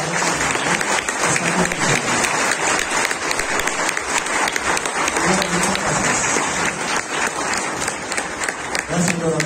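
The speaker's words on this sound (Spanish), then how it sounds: "Un aplauso fuerte para el" A congregation at a Catholic Mass in San Antonio church, Lagos de Moreno, Jalisco, applauds a priest in a loud, sustained burst of dense clapping filling the whole stretch, with some voices mixed in.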